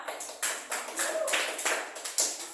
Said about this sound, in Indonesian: Jadi tepuk tangan dulu ya buat Yosi ya.